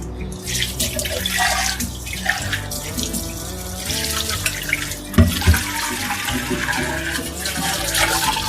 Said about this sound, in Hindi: अब इसको एक पानी से और मैं धोऊंगी।